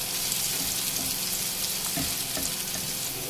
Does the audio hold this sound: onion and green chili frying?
yes